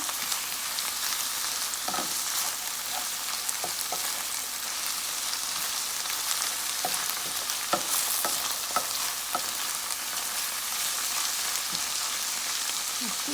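Boneless salt fish seasoned with black pepper sizzles steadily in a pan while a utensil stirs it, scattered clicks and scrapes against the metal over a constant frying hiss.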